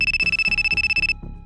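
A telephone rings with a rapid electronic trill, loud and close, pulsing steadily for about a second before stopping abruptly, with no voices over it.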